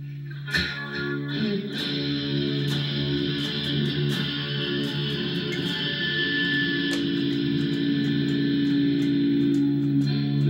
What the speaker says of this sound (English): Now hit the distortion to see what happens.